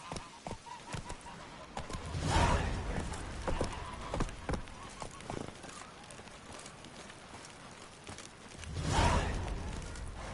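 Horse hooves in The Witcher 3 fantasy role-playing game, a run of clip-clop hoofbeats over ambient game sound and faint bird or fowl calls, moderate and fairly close, with two louder swells of movement and some voices.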